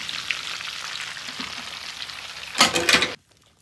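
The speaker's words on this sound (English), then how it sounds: "I just fried these until they're golden brown" Cheese sticks fry on a flat top griddle, giving a steady soft sizzle with one louder crackling burst near the end before it cuts off.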